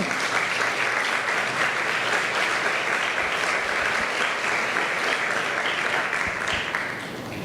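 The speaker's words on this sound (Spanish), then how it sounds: "Denle un aplauso al Señor." A church congregation claps steadily and loudly, a dense wash of applause that holds for several seconds before easing slightly at the end.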